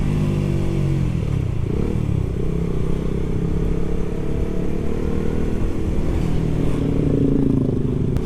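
A Suzuki GSX-S150 motorcycle engine drones steadily while riding, a loud, close, continuous low buzz with slight pitch shifts and wind rush throughout.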